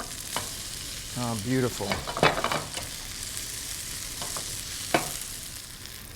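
Celery root pancakes are flipped in a frying pan, with a steady close sizzle, a few scraping stirs and brief clatters of the spatula, and a short spoken remark partway through.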